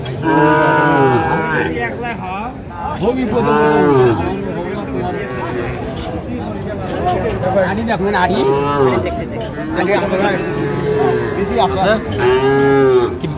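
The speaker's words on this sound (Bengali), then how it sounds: "দেখছিলাম এখানে সুন্দর একটি ষাঁড় বাচ্চা দেখাশোনা চলছে।" A Sahiwal bull calf moos repeatedly at a cattle market, long loud bellowing calls rising and falling one after another, with other cattle lowing nearby and faint chatter of people underneath.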